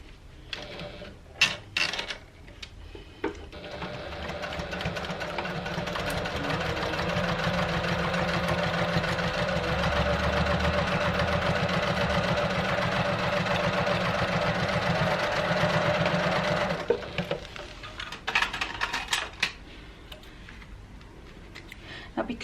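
A sewing machine stitching vinyl tote bag pieces at a half-inch seam runs in one steady, buzzing burst for about twelve seconds, bracketed by scattered clicks and handling noises before and after.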